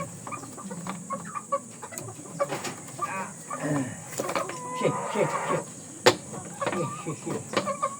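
Chickens cluck in short, scattered bursts close by, with occasional louder squawks and some handling noise mixed in as a chicken is caught and its face cleaned.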